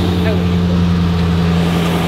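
A Series 1 Rover P6 Estate engine runs in a steady, close, low mechanical drone with a constant hum and no clear rise in revs over two seconds.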